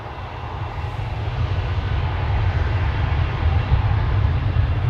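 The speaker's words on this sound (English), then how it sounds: "A220 Bulgaria to Sofia, flight 462" A Bulgaria Air Airbus A220 jet departs Amsterdam Schiphol for Sofia, a deep, steady engine rumble that swells slightly as it continues, with no talk.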